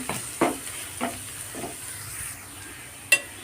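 A chapati dish frying in a pan, with a soft steady sizzle broken by a few scraping stir strokes and one sharp metallic clink near the end. No one speaks.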